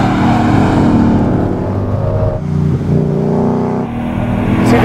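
An RTR Ford Mustang engine revs hard and steadily at about 70 mph through a slalom, droning loud and close with brief dips as it lifts and reaccelerates, no talking.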